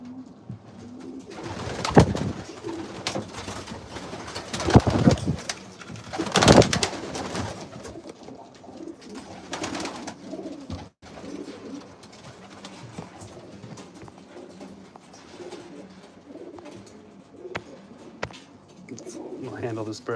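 Pigeons in a breeding loft coo in low, throaty, repeated phrases, some loud and close, others softer, amid wing and handling noises, while someone talks over them throughout.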